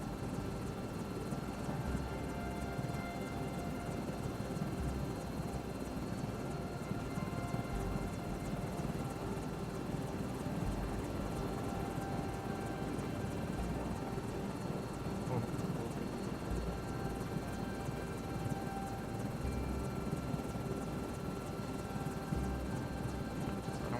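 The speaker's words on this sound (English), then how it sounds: "in the sky crane, you're flying like an aircraft" Sky crane helicopter in Microsoft Flight Simulator 2024, a continuous steady rotor and engine drone with even thrumming, holding at a constant level throughout.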